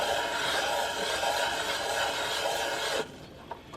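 A Norton Commando rocker cover is rubbed back and forth on sandpaper laid over a flat stone, a steady close gritty scraping that stops after about three seconds and leaves a couple of faint knocks.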